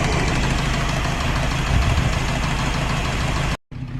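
A Morris 8 engine idles with one cylinder down, a loud, close, uneven chugging drone that cuts out briefly near the end and then resumes.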